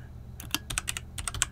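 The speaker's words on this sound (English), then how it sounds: "Now I'll type it the way I want it to show in my draft." A computer keyboard clicks under quick typing, a short burst of a dozen or so close, crisp keystrokes in small clusters after a brief quiet start.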